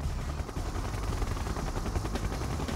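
Soviet Siege Chopper guns in Red Alert 2 Yuri's Revenge fire a dense, continuous stream of rapid shots over a heavy rotor-like rumble, loud and close throughout.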